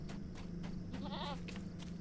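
Goats in a video game give a brief wavering bleat midway through, faint beneath a steady game soundtrack and background noise.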